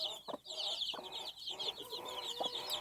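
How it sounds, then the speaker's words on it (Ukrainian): A hen clucking close by with soft chirps from chicks in an outdoor run covered with plastic sheeting against the wind, a busy scattered chorus of short calls over a faint background hiss. "Курчатка на вигулі."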